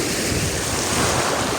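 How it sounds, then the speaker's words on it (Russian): Sea waves and surf roar continuously along the shore, a dense, loud wash of breaking water mixed with gusting wind noise on the microphone. "Не знаю, будет ли меня слышно от волн, от шума моря."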